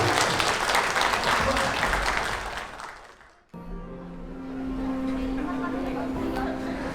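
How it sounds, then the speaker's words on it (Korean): Wedding guests in a convention ballroom applaud the groom with a loud, sustained burst of clapping that cuts off abruptly, followed by a softer wash of hall ambience and crowd murmur. "용기내준 신랑에게 큰 박수 부탁드립니다."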